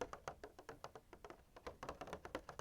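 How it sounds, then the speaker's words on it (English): Quick, crisp taps on plastic repeat in an uneven rhythm, close and fairly quiet, with no voice over them. "I'll tap on the plastic right now"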